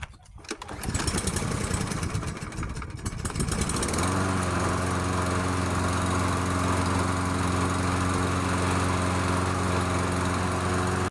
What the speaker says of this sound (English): The Toro recycler started on the very first pull.